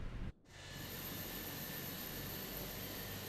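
Jet engine of a Fenix airliner in a flight simulator, a steady broadband roar with a faint high whine that cuts out briefly near the start and then resumes at constant level.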